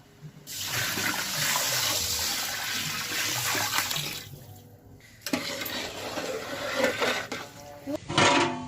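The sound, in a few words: hot water poured into a pot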